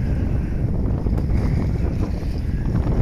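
Cold wind gusts across a rocky seashore, buffeting the microphone with a low, rumbling roar that stays steady throughout the short stretch, with faint surf underneath.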